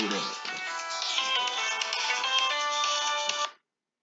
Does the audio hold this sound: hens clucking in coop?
no